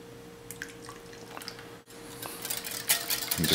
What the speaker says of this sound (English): And I'm going to whisk that together.